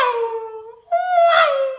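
A person vocally imitates a Formula 1 race car passing on a circuit: a sustained nasal whine that drops in pitch, breaks briefly, then returns as a lower, buzzing tone, like a car approaching and going past.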